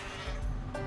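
A goat in the video game Goat Simulator 3 lets out a short, loud bleat over a dense background of game noise.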